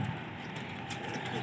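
Gola pigeons, part of a flock of about two hundred racing birds in Lucknow, coo softly over a steady, hissy outdoor background with no talking.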